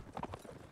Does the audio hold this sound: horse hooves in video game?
yes